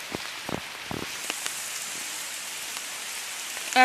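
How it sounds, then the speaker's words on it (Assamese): Steady rain falls close by, with a soft, even patter and a few louder drops tapping nearby. "বৰষুণটো দিছে মোবাইলটো তিতি যাব"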